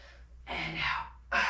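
Two forceful breaths during a strength workout, a long airy exhale followed by a second sharp one, close to the mic with no talking.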